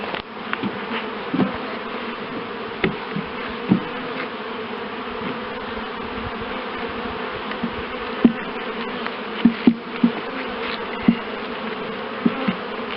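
Honey bees buzz steadily throughout a hive inspection, a dense close drone with faint clicks and soft knocks of hive frames and tools scattered through it.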